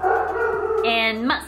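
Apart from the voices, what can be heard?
dog howling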